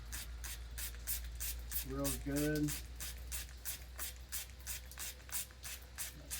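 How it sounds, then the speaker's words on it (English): A spray bottle pumped repeatedly onto a surface in a garage, a steady series of short, faint hissing bursts in even rhythm, with a brief voice speaking partway through. "And we're gonna spray this"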